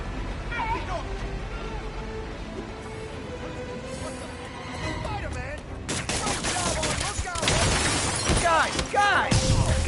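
Gunfire during a robbery in a PS4 video game, with bursts of shots and shattering impacts that grow denser and louder toward the end, mixed with game voices and chatter.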